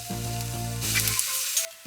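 Fried rice ingredients with salt, pepper and curry powder sizzling in a pan, a brief close burst of frying hiss with a tonal hum underneath, no talking.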